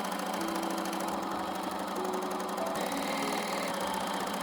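Sewing machine stitching the side seam of a sparkly leotard, a steady fast mechanical whir and needle patter running continuously at moderate level, briefly shifting pace partway through.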